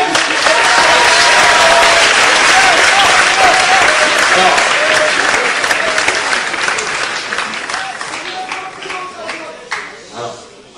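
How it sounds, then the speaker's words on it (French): A large audience bursts into loud applause that holds steady, then thins into scattered claps and fades toward the end, with voices and whistles among the crowd. "vous pouvez l'applaudir"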